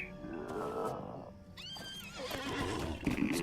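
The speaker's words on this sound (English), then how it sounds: "Just get on the horse then." A horse in the video game LOTRO gives a rising, warbling whinny partway through, preceded by game ambience and followed by a breathy snort, moderately loud and close.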